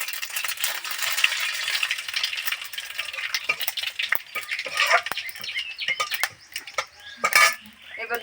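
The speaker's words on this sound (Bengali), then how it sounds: "এবার দিয়ে দিচ্ছি সর্ষে সর্ষেটা চলে এসছে" Mustard seeds drop into hot oil with chillies that have already blackened in a village kitchen pan, giving a steady crackling sizzle with scattered metallic clinks and stirring rattles that grow busier toward the end.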